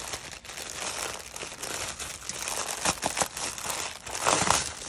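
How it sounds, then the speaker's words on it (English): Thin packaging shred from an AliExpress parcel crinkles and rustles continuously for several seconds, close and fairly loud, with brief sharper crunches near the end. "Sorry for the crinkling and stuff"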